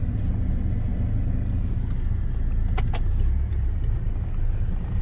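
A car drives along a residential side street, giving a steady low engine and road rumble inside the cabin with a couple of faint clicks, continuous and close.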